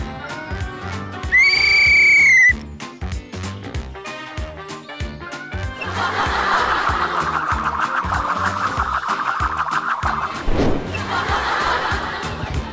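A whistle blows once, loud and steady with a bright harmonic tone, for about a second near the start of a busy comedy scene, amid background music, rhythmic thumping and a later horse-like whinny.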